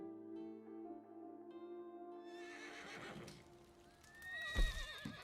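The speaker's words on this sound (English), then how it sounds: "The horse is losing its shit." A video game horse in Red Dead Online neighs with a long, wavering whinny, followed by a sharper snort and thump, heard clearly against a quiet background.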